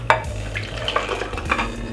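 A whisk stirs liquid into a Jamaican cornmeal pudding mixture in a bowl, giving close, steady scraping and sloshing with light clinks of metal against the bowl, and no talking.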